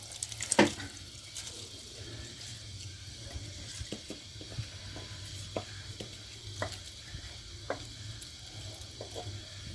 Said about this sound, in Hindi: कुछ देर के लिए हमने इसको कवर किया था, पानी अब जोश में आ चुका है।